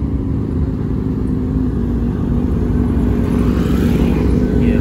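Sport motorcycles, a Kawasaki Z900 and a Yamaha R6, arriving at a big-bike gathering in Indonesia, giving a loud, close, continuous engine drone with a steady low hum that swells slightly toward the end.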